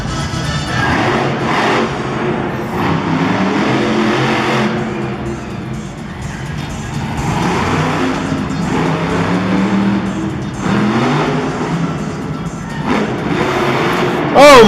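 The 4x4 Thunder monster truck roars steadily at Monster Jam in St. Louis, its engine revving loud and continuous through an arena freestyle run, with an announcer talking over it.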